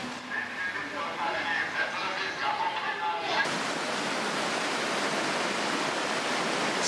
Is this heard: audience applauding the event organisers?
no